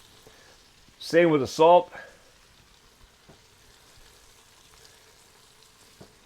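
Soft, steady sizzle of baguette bread frying in melted butter for garlic bread soup, faint and continuous in the background, with a brief spoken phrase over it.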